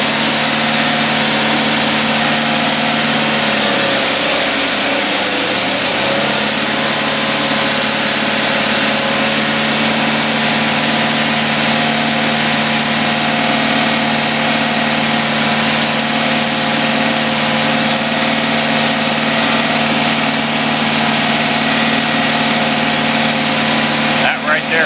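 An engine idles with its choke held open, a loud, steady rumbling drone that runs unbroken for the whole stretch. There is a slight wobble early on, and voices may be faintly present beneath it.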